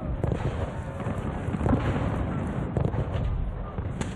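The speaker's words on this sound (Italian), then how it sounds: "Le 6 di mattina, i primi colpi di cannone." Cannon and artillery fire at the Battle of Smolensk, rendered as a documentary sound effect: a dense, continuous barrage of booming and crackling blasts with heavier thuds rising around the middle and near the end, loud and without talk.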